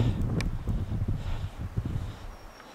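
Outdoor wind blusters across a rural former railway valley crossing in Minnesota, buffeting the microphone in low gusts and rustling, with no speech.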